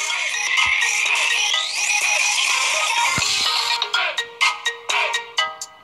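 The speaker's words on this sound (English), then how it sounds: "My ringtone." A phone ringtone plays loudly over game music from Geometry Dash World, ending in a run of short repeated chirping pulses.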